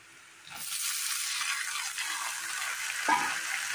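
Potato pieces tipped into hot oil with browned onion and green chilli, a steady broadband sizzle rising sharply after a soft start and holding, with a brief louder splash-like burst near the end as pieces hit the pan.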